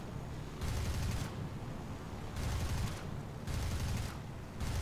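Bursts of machine-gun fire from a Yak-1 fighter plane in the War Thunder flight game, three long rattling volleys separated by short pauses, loud and close over a steady engine drone.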